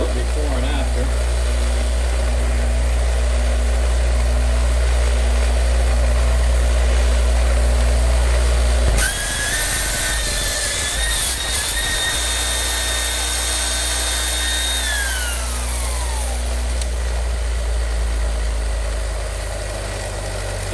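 A restored vintage Thor copper line electric drill runs with a steady motor whir, then switches to a higher, rising whine that holds and slides back down, the motor sound loud and close throughout.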